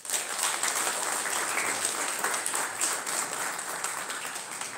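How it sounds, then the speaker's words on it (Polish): Audience at a national consumer-agricultural convention in Siedlce applauds steadily throughout, a dense, even wash of clapping with no pauses and no talk over it. "Wielkie brawa dla niej."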